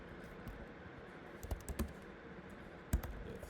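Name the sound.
typing code on a computer keyboard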